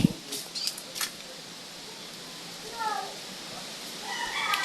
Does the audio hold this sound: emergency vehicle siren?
no